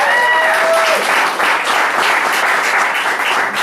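An audience at an open mic night bursts into loud, close applause with some cheering. A brief tonal voice sounds at the start before the clapping continues alone.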